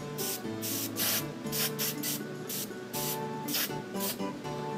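Spray can coating a painted miniature in repeated short hissing bursts, roughly a dozen close, loud sprays with brief gaps between them.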